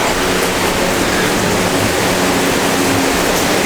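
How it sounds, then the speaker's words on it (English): Steady, loud broadband whooshing noise, constant throughout with no breaks, like a fan running nearby. "Now you may hear a fan in the background."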